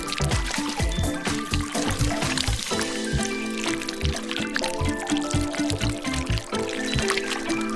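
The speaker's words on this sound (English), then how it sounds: "Now pour some melted wax over it in different colors." Melted wax in different colors is poured over a candle held above water, giving a busy liquid pouring and trickling sound with irregular splashes that run steadily throughout.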